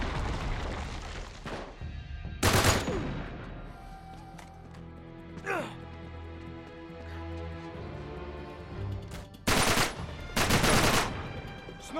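Sniper gunfire in Uncharted 3: Drake's Deception, several sharp, loud isolated shots spaced across the stretch, two close together near the end, over a low rumbling battle backdrop with a brief whistling streak.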